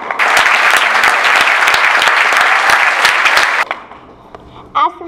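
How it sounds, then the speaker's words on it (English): An audience at a comedy benefit event applauds loudly as Marty, a stroke survivor, joins the stage, with dense, steady clapping for about three and a half seconds before it cuts off abruptly, leaving quiet room tone and a brief faint sound near the end. "Giving Marty a big applause as he joins us here on the stage."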